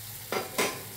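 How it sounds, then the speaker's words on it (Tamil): Paneer cubes frying in a pan for paneer peas masala, with a steady sizzle and two brief scraping stirs, close and moderately loud with no speech. "இப்போ நம்ம அதை சேர்த்து வறுத்துக்கலாம்."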